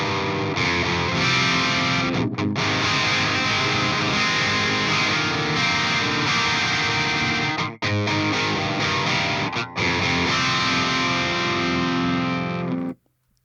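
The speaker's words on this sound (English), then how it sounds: "How about crunch 2?" A distorted, crunchy electric guitar plays chords through an Engl Savage MKII amp simulator's crunch channel, steady and loud, with a couple of brief breaks before ringing out.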